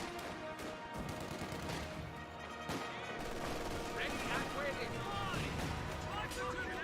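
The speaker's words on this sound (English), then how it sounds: "You now have the Vickers firing away against the garrison as well" A Vickers machine gun fires bursts at a garrison in the strategy game Company of Heroes 2, crackling gunfire mixed with other battle effects and a commentator talking over it.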